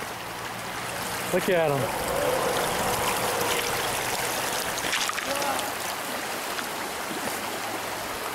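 A small Alaskan creek, Quartz Creek, with fish carcasses in it, trickles steadily and softly in the background while people talk briefly over the flow.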